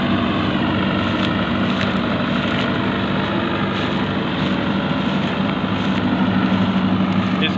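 A straw chopper machine working in a village field alongside a tractor and trolley, a loud, steady engine drone with continuous mechanical churning, unbroken throughout.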